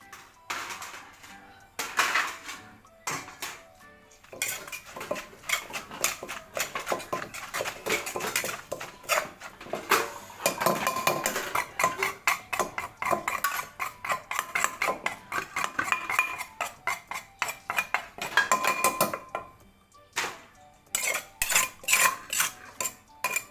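Steady pounding and scraping in a mortar as fermented bamboo shoot jaew dip is ground and mixed, close and repetitive clacks with brief pauses, no talking.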